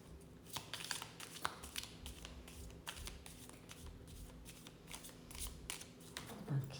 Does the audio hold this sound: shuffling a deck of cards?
yes